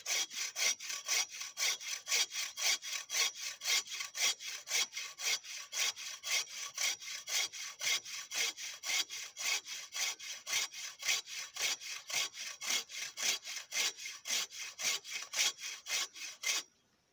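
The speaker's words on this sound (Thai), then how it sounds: "ถ้าไม้ยังไม่ตายนี่เลื่อยง่ายมากครับคล่องมือนะครับ" A hand saw cuts through fresh green wood for a small chopping board, with steady rhythmic back-and-forth strokes, close and even throughout, before stopping at the very end.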